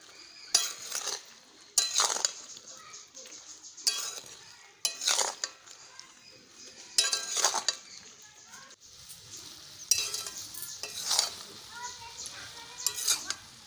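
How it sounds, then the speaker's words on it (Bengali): A spoon stirs jujubes (boroi) with melted jaggery in a pan for kuler achar, making repeated close scraping and clanking strokes in bursts with quiet gaps between them. "গুড়ের সাথে বড়ইগুলো নাড়াচাড়া দিয়ে মিশিয়ে নেব।"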